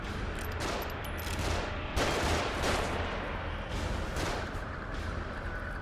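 Gunfire from above during a tense stretch of the survival-horror game The Evil Within, sustained bursts of shots forming a dense, continuous fusillade at moderate loudness.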